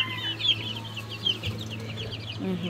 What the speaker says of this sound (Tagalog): Nagawa po si Papa Tilat ng inumin po ng ating mga alagang manok